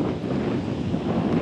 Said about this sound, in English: wind is a lot higher, so the waves are a bit choppier